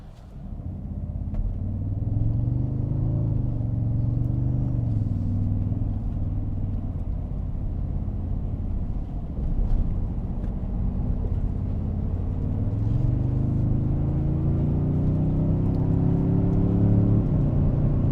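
A Toyota Sequoia TRD Pro's engine drones steadily from inside the cabin while driving in four-wheel high and sport mode, a deep continuous rumble that rises in pitch as it accelerates, then eases and climbs again.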